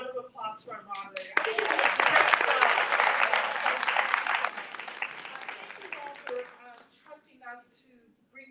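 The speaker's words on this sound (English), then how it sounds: "we just give a round of applause to our moderator?" An audience at a Baltimore civil rights panel applauds its moderator, a burst of dense clapping that swells, holds for a few seconds and fades out, with speech before and after.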